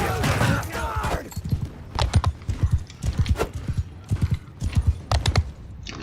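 A horse galloping in the video game Mount and Blade II: Bannerlord, rapid rhythmic hoofbeats drumming close and loud, with a brief rushing burst at the start.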